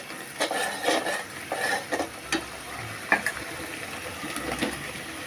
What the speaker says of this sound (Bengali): জিরে ধনিয়ার গুঁড়ো দিয়ে দিলাম। 3 থেকে 4 মিনিট আমরা এগুলো ভালো করে কষাই নিলাম।